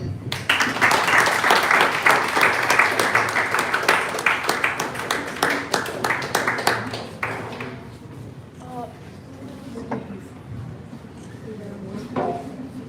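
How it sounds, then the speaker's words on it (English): Audience applause at a teen internship and innovation event, a loud, dense round of clapping for about seven seconds that drops off into scattered claps and room noise, with voices in the background. "And of course, a big round of applause."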